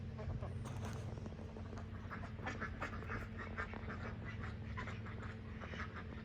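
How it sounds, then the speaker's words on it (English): Ducks quack outdoors, a busy overlapping chorus of short nasal calls that runs on throughout, at moderate distance over a steady low background rumble. "So I'm getting some footage of some ducks."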